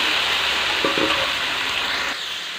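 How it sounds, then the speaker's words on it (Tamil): Onion and curry leaves, with black gram, sizzle in hot oil for tempering: a steady close crackle with a brief stirring scrape midway, easing slightly near the end. "கடுவுளுந்தம் வெங்காயம் கருவேப்பிலை இதெல்லாம் போட்டு தாளிச்சுக்கலாம்"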